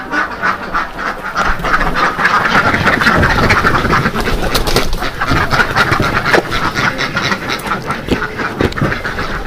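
Ducks quack continuously at a duck farm in Sukabumi, a crowd of overlapping calls close by and loud, with a raspy, busy texture and no speech.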